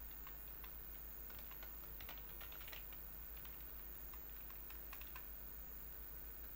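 Steady, fairly quiet typing on a computer keyboard while editing C++ code, irregular clusters of close key clicks with no talking.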